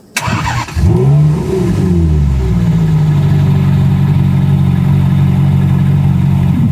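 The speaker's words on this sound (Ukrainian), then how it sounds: "давай, може, запустимо двигун та послухаємо, як він Так. співає." A Ferrari engine cranks and fires up, revs sharply, then settles into a loud, steady idle close by.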